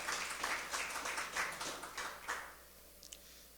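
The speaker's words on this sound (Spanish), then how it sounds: "¿Puedes darle un aplauso al Señor en esta mañana?" A church congregation applauding for the Lord during a Sunday morning sermon, a fairly faint, steady clatter of hands that fades out after about two and a half seconds.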